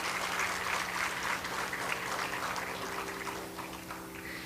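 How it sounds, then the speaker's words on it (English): Audience applauding after a Bharatanatyam dance performance, a continuous wash of clapping throughout, slowly tapering over a few seconds. "Can we get another round of applause for Sravya's amazing performance?"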